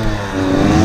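A motorbike that is running poorly revs steadily at a 2019 rock run, its engine drone held close and loud and swelling slightly toward the end, with no voices.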